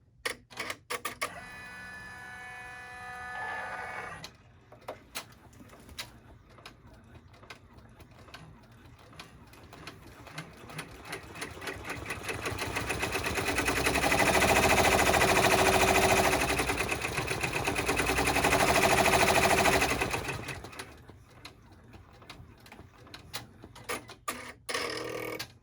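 Sewing machine stitching along the side of a Stars and Stripes clutch bag: a rapid mechanical whirr and clatter that builds to a sustained louder run mid-way, then eases off into a few sparse ticks.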